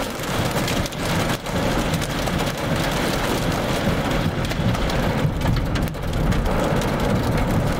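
Heavy rain from a downburst storm with hail near Feldbach, a steady dense roar of drops pounding surfaces throughout, with low rumbling thunder mixed in underneath and no voices.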